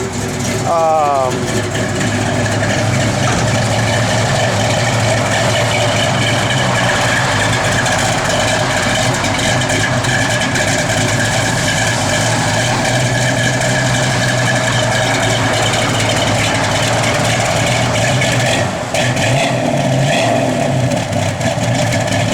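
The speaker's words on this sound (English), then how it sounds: "Car's got a good sound to it, man." A 1970 Dodge Challenger engine idling in a steady, continuous low rumble, with people talking over it.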